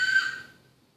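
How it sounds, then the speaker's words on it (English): A sharp, high whistle with a built-in constriction is blown once in a lecture hall, a bright steady tone that fades out quickly within a second. "This has a built-in whistle to make my life easier"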